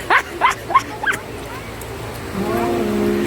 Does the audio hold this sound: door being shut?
no